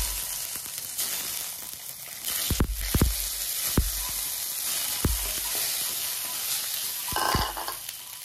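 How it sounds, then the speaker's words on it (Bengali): An egg frying in a pan during preparation of a boiled cauliflower and egg dish: a continuous close sizzle, broken by several sharp stirring or scraping knocks, with no talk. "এখন আমি ডিমটা ভেজে নেব।"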